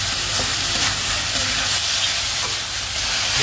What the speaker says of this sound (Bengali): এই যে মশলাটা দিয়ে আমি ভালোভাবে এভাবে ভেজে নিচ্ছি।